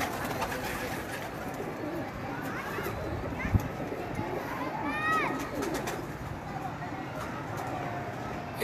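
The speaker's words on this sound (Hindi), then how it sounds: "पीछे बड़ा कबूतर है फिरोजपुरी।" Ferozpuri pigeons cooing on a rooftop, soft repeated coos among other bird calls, with someone talking over them, background street hubbub and a brief knock partway through.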